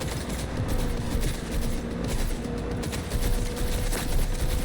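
Dense, continuous gunfire from the video game Cyberpunk 2077 as enemies are shot, loud rapid overlapping bursts with no pauses.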